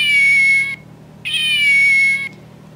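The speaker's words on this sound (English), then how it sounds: "The kitty cat does meow when you push his paw." A plush Build-A-Bear toy cat gives two electronic meows when its paw is pressed, each lasting under a second with a short pause between, bright and close with no talking.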